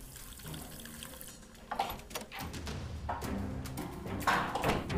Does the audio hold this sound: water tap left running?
yes